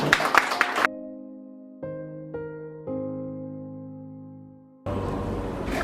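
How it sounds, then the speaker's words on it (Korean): An audience clapping at a speaker event as a CJ Group adviser is welcomed: bursts of applause open and close the moment, with a sustained musical chime or fanfare ringing between them. "우리 정윤수 회장님을 큰 박수로 모시겠습니다"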